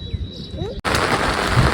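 Steady hiss of rain falling, continuous and fairly loud, with a brief dropout partway through, then a dense patter on surfaces.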